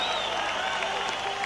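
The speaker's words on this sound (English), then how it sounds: "There you see the big crowd on in here at John O'Donnell" A large boxing crowd at the Michael Nunn vs. James Toney fight roars and applauds steadily under a commentator's voice.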